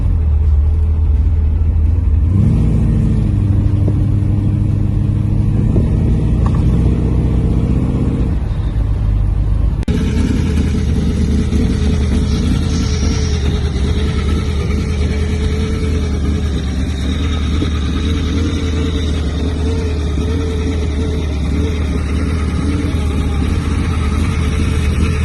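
Engine of a 1930 Ford 5-window coupe hot rod with a fiberglass body, running loud and close with a deep rumble, shifting pitch as it revs before settling into a steady throaty drone.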